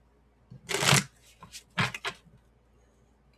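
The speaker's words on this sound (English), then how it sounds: "shuffle, shuffle, shuffle, shuffle, shuffle, shuffle" Playing cards are shuffled close up in two quick riffling bursts, crisp papery ripples followed by a few lighter taps and squares-up, with no voices.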